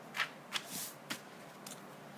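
Sheets of paper are picked up and handled at a craft table, giving a few quick close crisp rustles and flicks over about two seconds.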